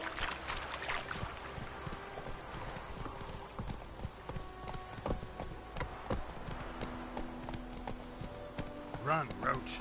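Roach, a horse in The Witcher 3, gallops with a steady rapid clip-clop of hooves over game music and ambience, with voices talking over the hoofbeats and a brief whinny near the end.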